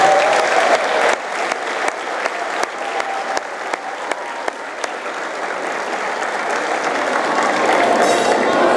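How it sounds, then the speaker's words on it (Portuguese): Loud, dense applause fills a political rally for a municipal candidacy in Machico. The clapping is continuous and close, with a few sharper claps standing out, and no voices are heard. "Uma salva de palmas para eles."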